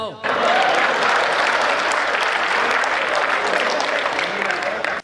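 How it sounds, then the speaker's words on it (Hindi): An audience at a Hindi comedy poetry gathering breaks into loud, sustained applause that swells quickly after a brief voice and holds steady throughout. "तालियां बजाओ"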